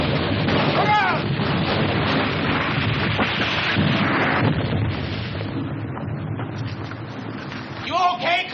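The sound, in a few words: artillery fire in a 1951 war movie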